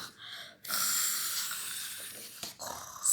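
A voice imitates a sleeping dog snoring: a short pause, then one long, breathy, rasping snore followed by a brief break and a second snort, close and alone.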